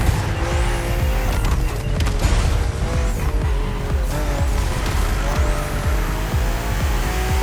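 BMW M2 and M4 race cars in The Crew Motorfest on a narrow road full of sharp bends, engines revving and shifting up and down with repeated tire squeals, loud and close throughout.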